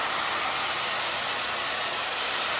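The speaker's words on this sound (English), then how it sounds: "this is probably, without a doubt, the best diffuser I've ever worked with for this type of drying" A hair dryer fitted with a diffuser blows steadily while drying long, curly layered hair, a loud, even rushing hiss that holds constant from start to end with no voices.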